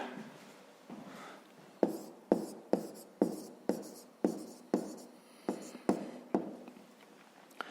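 A pen writes on paper while a fifth-grade math exercise is worked out. A dozen or so crisp scratching strokes land in a steady rhythm, each a short tap-and-drag. They are faint but close, and no one speaks.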